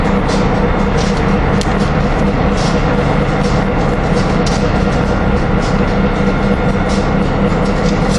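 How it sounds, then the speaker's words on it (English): An NJ Transit train with cab car 6033 pulls out of 30th Street Station, a loud steady rumble of wheels and rolling cars that stays constant and close throughout. "Here we got the NJT train leaving."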